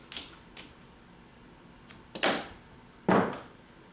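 T-Rex tape is pulled and pressed onto a wooden picture frame, giving a few faint sharp ticks followed by two louder crackling rips spaced about a second apart in a quiet room.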